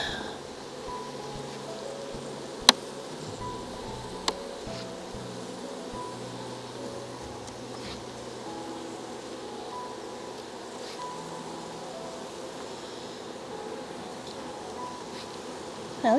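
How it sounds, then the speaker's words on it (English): Honey bees grow agitated while a Cooper hive is opened for its first spring inspection, giving a steady, continuous buzzing drone throughout, with two brief sharp clicks early on. "Now these bees are getting a bit agitated"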